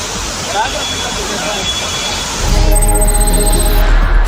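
Sudden waterfall pouring after heavy rain near Manapparai in Trichy district, a loud steady rush of water that swells to a heavier roar partway through, with faint voices and other noise mixed in.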